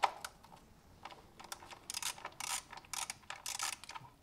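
Ratchet loosening 10 mm coil pack bolts on a Kia Optima 2.4L GDI engine, a quiet series of rapid clicking bursts in irregular spurts, close and alone.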